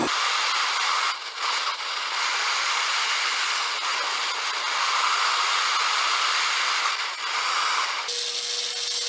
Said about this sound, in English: But I'm just going to heat it up and solder it together.